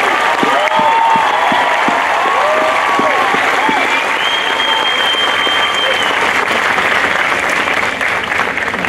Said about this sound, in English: can you please join me in a round of applause for this wonderful group of young men and women?